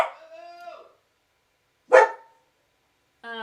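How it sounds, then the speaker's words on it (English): Dogs barking outdoors in a few separate bursts, with a short harmonic bark or yelp near the start, a sharp bark midway and another barking burst at the end, heard at moderate distance with silence between. "I know, there are dogs outside,"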